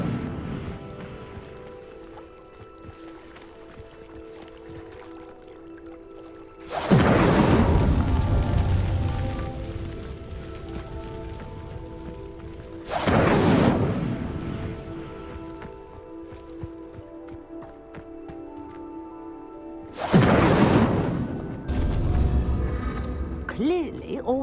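The Incendio fire spell in Hogwarts Legacy ignites pyres three times, each a sudden loud roaring whoosh of flame that settles into steady crackling burning, with a voice speaking between them.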